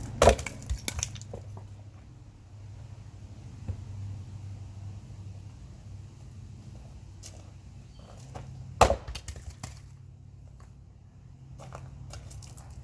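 A maul axe strikes a wood log set on a stump, giving a few sharp woody cracks, one at the start and one later, over a low steady outdoor rumble, with no talking.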